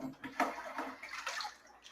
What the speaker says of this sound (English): We'll open the bathtub.